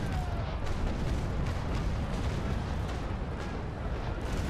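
A ship's broadside of nine cannons fires in the Naval Action naval battle game, a dense, continuous roar of overlapping booms and rumbling blasts that fills the whole stretch loudly.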